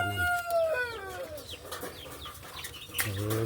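Chickens on a small chicken farm, shut in their cages after feeding in the late afternoon, cluck and squawk in a busy overlapping chorus at close range, with occasional louder calls and a brief crow-like cry.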